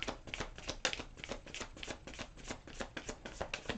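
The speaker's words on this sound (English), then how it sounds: "I'm just going to do a couple more little shuffles here for Aquarius." Rapid, crisp riffling of tarot cards being shuffled, a flurry of papery flicks in quick bursts, close and clear with no voices.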